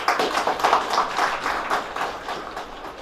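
Village assembly members clapping in a hall to pass the budget at a rural municipality assembly, a short round of steady group applause, moderately loud and fading slightly toward the end.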